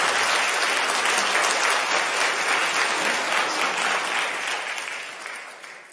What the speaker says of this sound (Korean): 여러분들 인사드릴 때 따뜻한 환영의 박수 부탁드립니다.